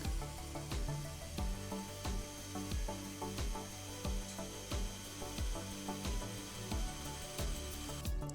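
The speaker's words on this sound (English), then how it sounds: "Next, I had to drill out a snapped bolt from the steering rack." A power drill drills out a snapped bolt from a BMW 750i steering rack in repeated short bursts, a steady rhythmic mechanical chatter close by, with metallic clicks through it and no talking.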